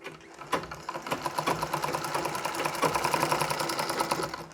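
A sewing machine stitches the waist part of a Nauvari saree, running in a fast, even needle rhythm with long stitches, close and steady after a brief start, with no talking.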